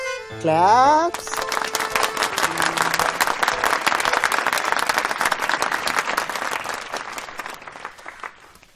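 An audience in a movie scene breaks into applause after a short musical sting, a full, dense round of clapping that holds steady and then slowly thins out.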